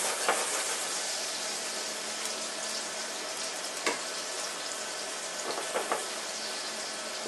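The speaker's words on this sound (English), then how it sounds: "we're just going to roast the mushrooms" Mushrooms roast in a hot pan, giving a steady, close, broadband sizzle with a few small crackles and pops. No one talks over it.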